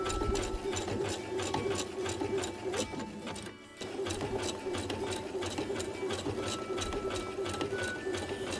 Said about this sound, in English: So you keep sewing.